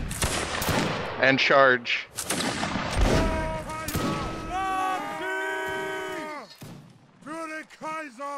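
Musket volley gunfire in the game Mount & Blade during a Napoleonic Wars line battle, a burst of loud cracking shots near and far, mixed with shouting voices giving orders close by.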